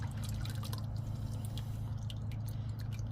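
Engine oil from a 2017 Nissan Sentra S drains from the removed oil filter, a continuous wet trickle and dripping with low rumbling hum, close and steady with no talking.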